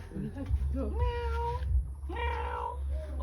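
A person imitates a cat, voicing two drawn-out meows with a short pause between them.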